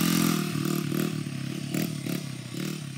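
A pit bike engine on a dirt track revs hard and close, a buzzy, raspy note that rises and dips in several quick pulses over a few seconds, with no voices.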